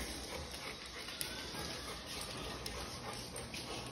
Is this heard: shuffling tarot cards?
no